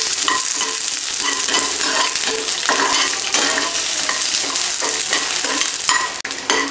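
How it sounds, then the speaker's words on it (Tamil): Dried red chillies and garlic fry in hot oil in a pan with a steady, busy sizzle and occasional stirring scrapes, close up and without talk. "வரமிளகாவையும் பூண்டையும் நம்ம போட்டு வறுத்து எடுத்துடலாம்."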